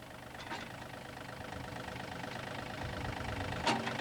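A tractor engine runs at a steady idle while backing up to a hitch implement, giving a moderate, even low rumble with a faint clank near the end.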